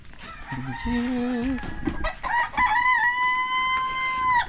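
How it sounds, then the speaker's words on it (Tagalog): A rooster crows loudly nearby, a long drawn-out call rising and holding, preceded by lower clucking. "Sabi ng manok."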